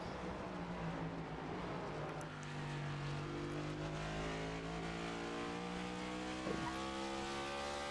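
Several race car engines drone steadily in a short-track sim racing video game, with layered rising and falling engine tones and occasional tire noise, no talk.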